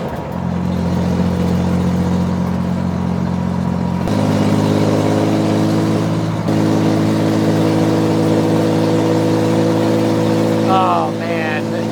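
A car's flat-six engine with a custom dual exhaust runs loud and close, a steady droning rumble that shifts in pitch partway through, with a voice talking over it.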